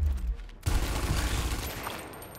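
Heavy gunfire in the turn-based shooter Gears Tactics, a sustained loud burst of shots and impacts that starts abruptly and rumbles on, slowly fading.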